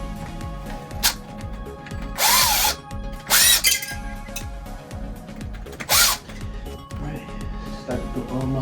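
A power drill backs screws out of a ceiling fan mount overhead, three or four short loud whirring bursts separated by pauses filled with quieter handling noise and a faint low hum.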